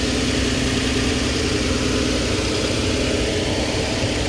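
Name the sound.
2013 Nissan Xterra engine idling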